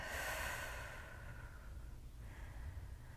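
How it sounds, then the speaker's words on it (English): A long, forceful breath out during a hip stretch, broad and airy at first, then easing into a softer, steady exhale that fades gradually, close and alone with no talking. "Take a big inhale, big breath out."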